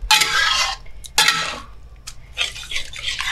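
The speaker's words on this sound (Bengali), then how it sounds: "এবার মশলার সাথে এটা আবার লো টু মিডিয়াম ফ্লেমে কিছুক্ষণ ডালটাকে কষে নিতে হবে।" Boiled dal being stirred with spices in a wok over low to medium flame for egg tadka, with loud scraping, clattering spoon strokes in bursts and short pauses, close up with no talking.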